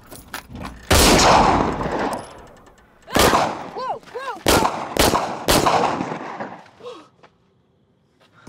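Sharp gunshots ring out in a campy thriller film, a handful of loud separate cracks spread across several seconds, each trailing off, with short vocal sounds between the shots.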